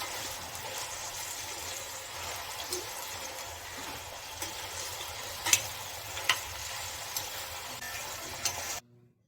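Steady sizzling of amla (Indian gooseberry) slices frying in a pan for pickle, a continuous close hiss with occasional small pops and stirring clicks, ending abruptly.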